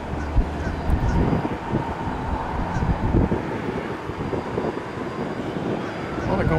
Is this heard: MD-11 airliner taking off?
yes